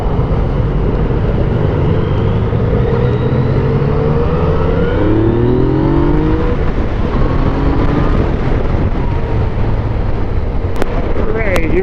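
A 2017 Yamaha FJ-09 motorcycle engine pulls hard at full throttle on a sweeping road, its rising, droning note loud under heavy wind rush.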